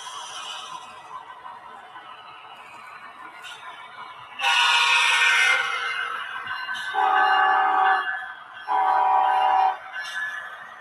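BC Rail model train on a loft layout, with a steady low running rumble throughout and three louder bursts that sound like horn blasts, one broad and two tonal, set close.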